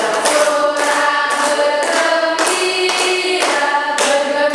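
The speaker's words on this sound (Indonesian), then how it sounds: "Tepuk tangan juga." A classroom of high school students claps hands together, loud and close, in steady rhythmic rounds of applause that swell repeatedly with no talking.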